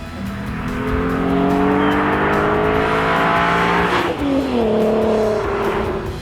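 A VW Golf R32 engine revving as it drives, its smooth tone climbing steadily through the gear, then dipping at a shift and pulling again, loud and close from inside the car.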